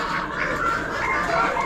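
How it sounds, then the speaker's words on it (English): Hens at an Amish auction, a dense continuous chorus of clucking and chattering from many birds close by, steady and busy without pause. "Bunch of hens."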